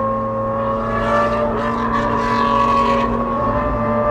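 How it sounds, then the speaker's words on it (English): A Lamborghini SV supercar engine roars steadily and loudly throughout, a continuous tonal drone with strong harmonics that swells slightly in the middle, with no talking. "Guess what car's making that sound? You guessed it. SV, baby."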